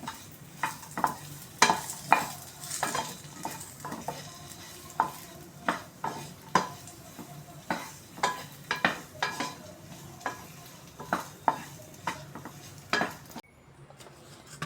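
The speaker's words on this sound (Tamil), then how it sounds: "சேர்த்து இதையும் நல்லா வதக்கி எடுத்துக்கலாம்" Dates sautéed in a pan for dry fruit ladoo, stirred with regular scraping and knocking strokes of a spoon against the pan over a soft sizzle, close and rhythmic.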